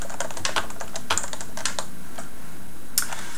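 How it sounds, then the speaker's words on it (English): Light, quiet typing on a Topre Realforce 103U-UW keyboard, a rapid irregular run of soft muffled keystrokes close up, with no voice over it. "the keyboard is very silent sounding, so when you type you won't hear a lot."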